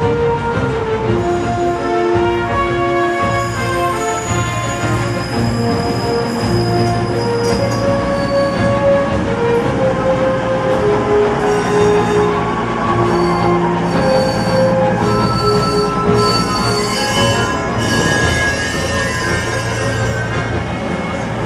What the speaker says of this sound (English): So my train will be here.